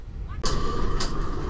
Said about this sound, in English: sound you can hear is someone's halyard smacking against their mast